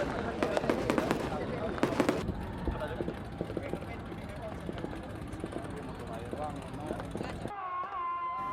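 Several loud, sharp booms from carbide cannons of varying sizes burst out in quick succession, then a few scattered blasts follow amid a noisy outdoor crowd with voices.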